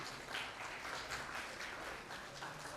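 Steady applause from an audience at a Mumbai Urdu teachers' union ceremony, a dense wash of many hands clapping at an even level throughout, with no voice on top.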